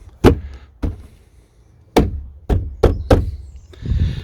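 Door trim panel being tapped onto its clips on a Ford Focus ST: a series of firm, dull thunks, six or seven hand blows at uneven intervals, close and loud, ending with a softer rustle.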